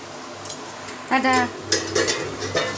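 A spoon stirring chicken chilli in a cooking pot, with a few scraping and clinking strokes against the metal and a faint sizzle, while a person talks over it.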